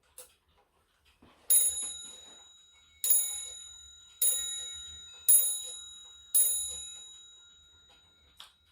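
A large restored clock's bell strikes five times at a slow, steady pace, each bright ring lingering and fading before the next, followed by a faint final tap.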